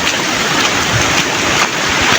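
Heavy rain pours down while flood water rushes past in a loud, continuous roar close by, a dense steady wash with no pauses.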